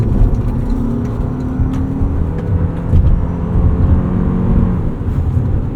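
A 2026 Toyota RAV4 Woodland plug-in hybrid accelerates with a steady engine and road drone heard from inside the cabin, with a faint whine climbing in pitch. No one speaks.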